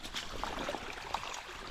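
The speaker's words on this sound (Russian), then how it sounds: "Когда подземные воды просто прорвало, они вот так вот льют." Groundwater bursting out of the ground like a spring after heavy rains, a close, steady rush of pouring water with small gurgling splashes, heard alone.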